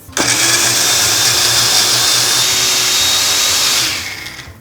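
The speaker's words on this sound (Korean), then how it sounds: "이건 밤 넣으시고 믹서에다 넣으시고 물 넣고 깔아주세요." A kitchen blender grinds chestnuts with water in a steady, loud, high-pitched whir that runs for about four seconds and then winds down, with no talking.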